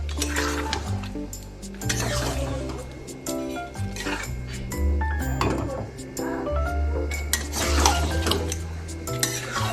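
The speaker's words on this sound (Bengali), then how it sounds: "এবার শুধু এটা দেখো কষানো হচ্ছে" Marinated chicken frying in a pan while being stirred, with clinks and scrapes of a utensil over a soft sizzle and a voice talking underneath.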